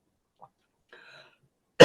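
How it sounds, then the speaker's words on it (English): A single sharp cough bursts out near the end, loud and close, after a few faint small sounds in near silence. "Excuse me, the cough is coming up again."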